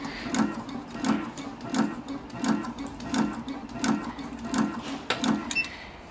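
A cutting machine runs steadily while a cutting gauge guides the cut, making an even, repeated thumping cycle about every 0.7 seconds under a low mechanical hum at moderate loudness.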